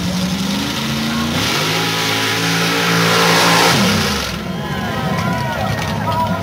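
A nitrous-fed drag racing truck revs hard at the strip, its loud engine rising and falling in a long roar before settling. Crowd noise and talk sit underneath.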